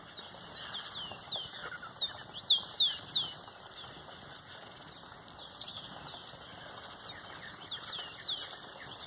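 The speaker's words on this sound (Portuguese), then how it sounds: "Olha a quantidade de passarinho." A flock of free canaries in trees, with scattered high chirps and tweets over a steady outdoor hiss and faint low rumble, the calls thin and somewhat distant, clustering most densely near the middle.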